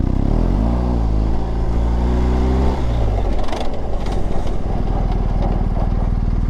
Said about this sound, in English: I mashed both brake levers and I came to a controlled stop without low siding or high siding the motorcycle